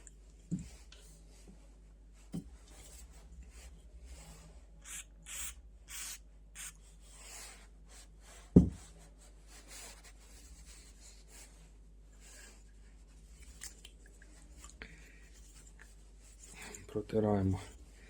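A graphics card cooler part is rubbed by hand during cleaning and lubrication, giving faint, scattered scraping touches with a few sharper knocks, while a person talks quietly throughout.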